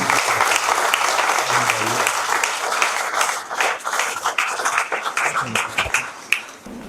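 A wedding congregation breaks into applause during a church blessing, sustained dense clapping that thins toward the end into scattered claps, with voices faintly audible beneath.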